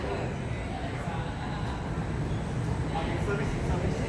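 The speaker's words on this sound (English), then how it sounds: "Everyone is boarding the train here." A train at Gardens by the Bay metro station on Singapore's Thomson-East Coast Line after an open house event, heard as a steady, loud rumble with crowd noise while people board, and talking over it throughout.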